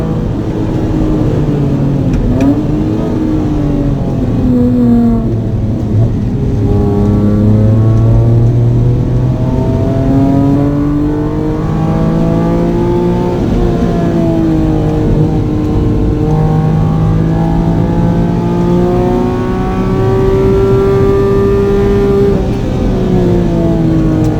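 Mitsubishi FTO Version R on a race track, engine repeatedly winding up through the gears with rising and falling pitch sweeps, loud and continuous as it accelerates to overtake.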